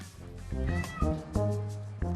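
A cat meows several times in close, clear, drawn-out calls with shifting pitch, indoors in a home.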